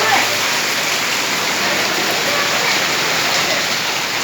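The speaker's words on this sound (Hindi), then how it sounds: "मूसलाधार बारिश बह रही है।" Heavy morning rain pours down in Sadri as a dense, steady roar of water. It stays loud and unbroken from start to finish, with no voices rising above it.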